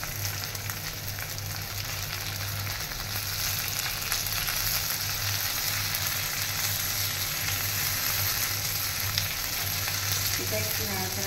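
Bell pepper frying in a pan with cashews, a continuous close sizzle under a low steady hum, with gentle stirring scrapes and no talking.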